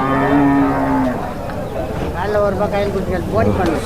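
Calves and cattle low repeatedly at a busy cattle market, with loud, drawn-out moos close by and voices and crowd noise around them.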